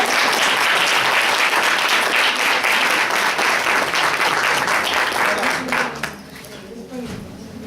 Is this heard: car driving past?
no